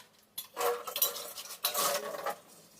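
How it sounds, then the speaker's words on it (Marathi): Morning dishes being scrubbed and handled at a kitchen sink: two bursts of rattling, scraping metal pots and utensils clinking together, close and moderately loud, with no talk. "आता इथं सकाळची ही भांडी घासून घेते मी."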